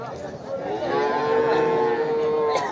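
A Friesian cross cow lows at a busy cattle market, a sustained, fairly loud bellow rising and holding for a couple of seconds, with faint crowd murmur behind it.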